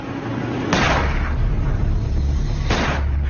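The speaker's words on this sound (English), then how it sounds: "at the sound of a gunshot in the cabin below" Two sharp, booming gunshots inside a cabin a couple of seconds apart, each with a heavy rumbling tail over a constant low background.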